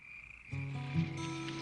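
Frogs croak in a loud, sustained, buzzing chorus that starts abruptly and holds steady, with a high insect-like drone running underneath.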